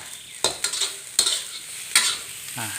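Egg fried rice with Vietnamese pork sausage stir-fried in a pan, sizzling steadily while a spatula scrapes and clatters in three or four distinct strokes, close and clear.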